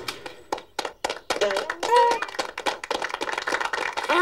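Sharp, uneven claps ring out in quick irregular bursts in a VeggieTales cartoon scene, with character voices talking between and over them.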